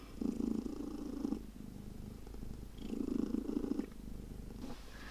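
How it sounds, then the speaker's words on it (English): A cat purrs close up in two long rumbling stretches, a steady low vibrating drone with a brief lull between. "apologise for your purring"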